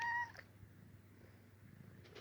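A small pet cat gives one short, clear meow, fairly close and alone, followed by quiet room tone.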